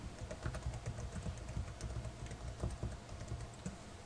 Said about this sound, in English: Again, I type in a name.